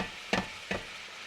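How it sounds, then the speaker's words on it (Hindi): Okra frying in a pan gives a soft steady sizzle, broken twice by short scraping stirs, close and moderately loud, with no voices. "यहाँ पे जो है ना भिंडी फ्राई हो गई है।"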